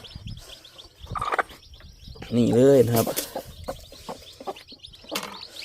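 A hen and her chicks being moved down from the nest, a loud hen cluck mid-clip among scattered soft chick peeps and clucks, close by, with someone talking briefly.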